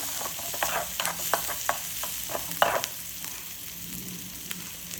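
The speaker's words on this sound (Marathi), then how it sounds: "आपण जो कांदा कट केला होता तोही ॲड करूया त्यात आणि छान असं परतून घेऊया" Chopped onion sautéing in a pan while a spoon stirs it, rapid clinks and scrapes over a bright, steady sizzle that settles into a quieter hiss near the end.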